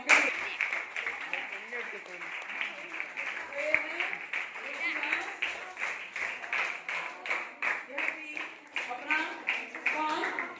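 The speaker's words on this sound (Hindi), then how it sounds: "तुलसीदास के लिए जोर से तालियां।" A school class claps for the winner of a Hindi quiz: steady rhythmic clapping from many hands fills the whole stretch, with voices mixed in underneath.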